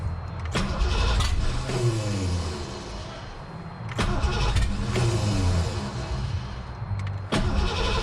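A Ford Ranger fitted with a 331 engine cranks and catches in repeated start attempts, loud and close, each churning crank rising briefly toward a rough run before dropping away.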